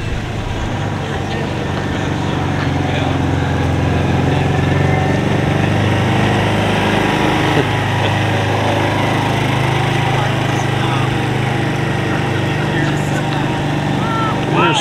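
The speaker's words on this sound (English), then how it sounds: "There is a lot of cars cruising by." Car engines rumble steadily as hot rods, rat rods and muscle cars cruise by at an outdoor car show, in a dense continuous drone.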